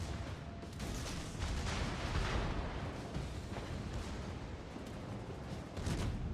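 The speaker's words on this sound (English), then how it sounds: "There's the Fuso, he's shooting at you." Fuso battleship guns firing in a naval battle game, heavy rolling booms and blasts in a dense, rumbling roar that swells and fades without pause.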